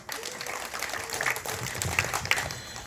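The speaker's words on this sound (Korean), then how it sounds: "자, 박수로 모시겠습니다." Audience applause welcoming a speaker at an indoor legal and tax compensation briefing session: a few seconds of steady, moderate clapping from a roomful of people.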